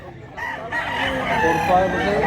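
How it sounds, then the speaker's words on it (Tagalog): A rooster being sold as a gamecock lets out a strong, nearby crow that swells and holds, with faint voices in the background. "Gandang manok."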